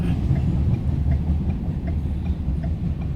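A train passes near Guthrie, Kentucky, with a steady, heavy low rumble. Faint rhythmic clacking runs through it, and no voices are heard.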